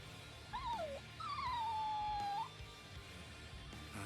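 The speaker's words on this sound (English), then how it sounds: "We thought it was just a stray dog" A stray dog lets out two high whimpering whines, a short one and then a longer, drawn-out wail, over a busy low background.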